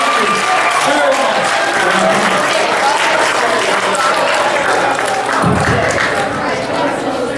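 Loud, sustained applause from an audience at the end of a live comedy show, a thick wash of clapping that runs the whole stretch, with crowd chatter and cheering mixed in.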